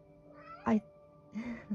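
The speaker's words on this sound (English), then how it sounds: "It's my cat giving confirmation." A house cat meows twice indoors, giving a short sharp meow and then a softer, longer one. Both calls are close and moderately quiet against a faint background hum.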